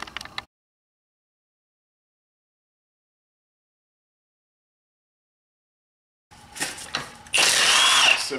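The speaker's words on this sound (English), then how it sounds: "Half inch impact, and I have a torque stick, you know, is optional to remove the wheels." Half-inch impact wrench loosening the wheel lugs on a BMW 5 Series, a short tool burst at the start, then silence for several seconds, followed by a loud, close rattling whir toward the end.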